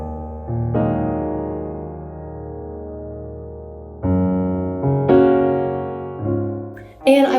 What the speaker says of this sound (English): I have a piano bass track that I've recorded.